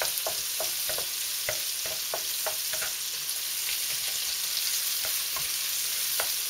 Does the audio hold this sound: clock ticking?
no